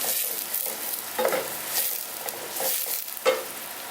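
Garlic fries and is stirred in a pan, a quiet, steady sizzle with a few soft scraping clicks from the utensil.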